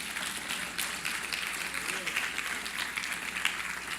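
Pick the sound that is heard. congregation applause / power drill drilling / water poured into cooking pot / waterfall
congregation applause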